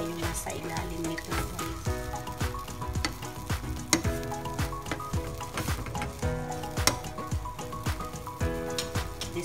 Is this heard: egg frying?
yes